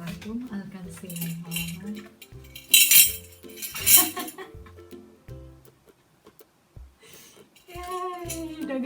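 Coins dropped into a piggy bank make several bright metallic clinks and jingling rattles, with two louder bursts of cascading coins near the middle. Short pauses separate them, and a voice hums or speaks briefly at the start and end.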